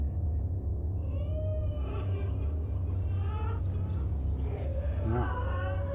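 A cat meowing inside a room in the Gamecube horror game Eternal Darkness: Sanity's Requiem, several short mews rising over a loud constant low rumble.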